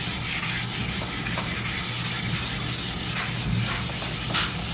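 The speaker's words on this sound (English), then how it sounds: "I suspect it'll take several hours to get it sanded in" A time trial bicycle frame is sanded by hand down through its white primer and red paint layers, producing steady, close, continuous abrasive rubbing with faint rhythmic strokes and no talk.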